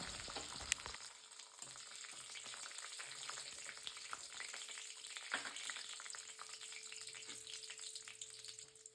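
Cashews and raisins fry in a pan for mutton dum biryani, giving a soft but steady sizzle with light stirring scrapes and a clink near the start.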